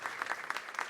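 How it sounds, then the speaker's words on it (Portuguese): Audience applause for retirees at the SERPRO institution's 60th anniversary ceremony, a steady round of many hands clapping from a moderate distance, filling the whole moment without talk. "Peço também uma salva de palmas dedicadas a esses aposentados"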